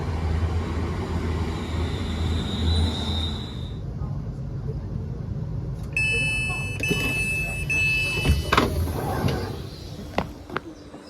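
A London Northwestern Railway train runs diverted near Northampton with a low engine rumble and rolling noise. Partway through, high electronic tones and buzzing join in, and people speak nearby.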